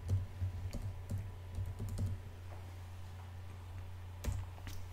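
Close keyboard typing of a terminal command, bursts of key clicks in an uneven rhythm with pauses between, over a steady low hum, no talking.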